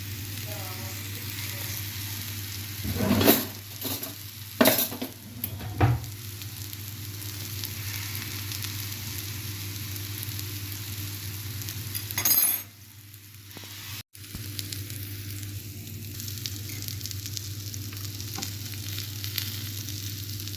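Köfte meatballs fry in a pan with a steady close sizzle, broken by a few clinks and scrapes of utensils and dishes near the start and middle.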